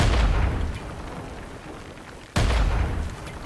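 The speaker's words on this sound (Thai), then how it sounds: "อุ้ยระเบิด" Grenade blasts in the mobile shooter game Badlanders: a heavy booming explosion that decays slowly, followed by a second sudden blast near the end, both loud and close with no voices.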